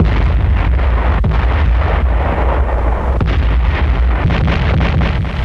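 Artillery fires in a 1945 WWII Pacific newsreel, dense booming blasts and rumbling roar in a loud, continuous, crackly old recording, with a few sharper reports standing out and no talking.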